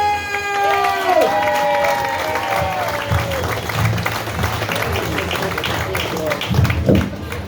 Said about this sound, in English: Let's have a big round of applause for Cody Tiano!